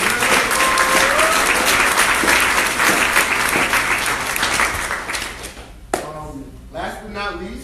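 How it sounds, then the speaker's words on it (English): Audience applause at a college scholarship signing-day award ceremony, loud dense clapping that tapers off, after which a speaker begins talking. "round of applause for them"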